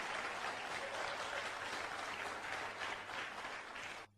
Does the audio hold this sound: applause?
yes